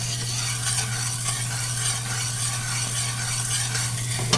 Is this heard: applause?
no